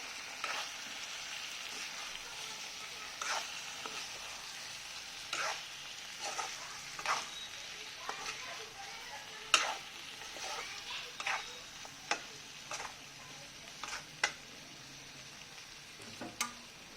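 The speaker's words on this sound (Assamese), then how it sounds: "এতিয়া ইয়াৰ ওপৰতে মই ডিমকেইটাও দি দিম, এইকেইটাও এড কৰি দিম, দি ভালকৈ মিক্স কৰি ল'ম" Eggs being stirred into chicken masala in a pan, with a steady sizzle and frequent scraping strokes of the spoon, close and at moderate volume, no talk.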